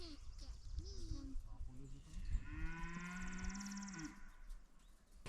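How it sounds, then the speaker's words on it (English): Cows mooing at a farm fence, several long lowing calls rising and falling close by, with people talking faintly in the background. "Hear those cows going crazy."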